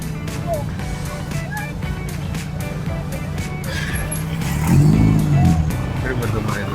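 Road traffic around a Vespa scooter ridden slowly through congested streets, with a steady engine and traffic rumble throughout and a louder swell of passing vehicles near the end, under a person talking.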